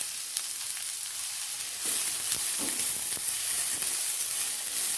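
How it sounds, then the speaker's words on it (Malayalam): Two medium onions, chopped small, sauté in well-heated oil for a tender jackfruit cutlet, giving a steady soft sizzle with a few light stirring scrapes and no talking. "2 മീഡിയം സൈസ് സവാള നമുക്ക് ചെറുതായിട്ട് അരിഞ്ഞിട്ട് വഴറ്റി കൊടുക്കാം."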